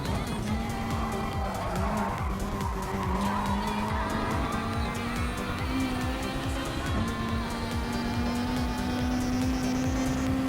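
Race cars on the Nurburgring circuit in the Gran Turismo Sport racing game, with a continuous loud engine roar that shifts pitch as gears change, plus tire squeal throughout.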